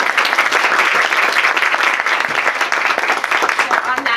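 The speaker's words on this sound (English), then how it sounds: "please, a big round of applause." Members of the Alden Kindred of America at their 2016 annual meeting applaud their volunteers: dense, loud clapping from a sizable indoor crowd, sustained evenly for about four seconds.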